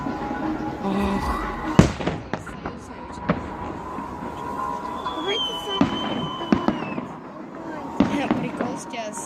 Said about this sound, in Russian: Что искра от салюта взрывается.